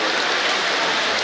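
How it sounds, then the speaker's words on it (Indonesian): Steady rain falling outdoors at a banana-planting event at a school in Tana Toraja, a dense even hiss that stays loud and unbroken throughout, with no voices. "Hujan turun."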